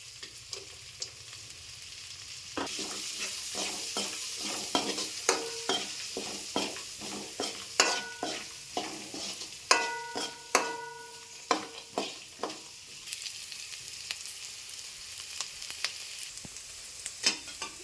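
Soaked chickpeas with turmeric are stirred in a frying pan, a spoon scraping and clanking against the pan in an irregular rhythm over a steady soft sizzle, close and alone with no talk.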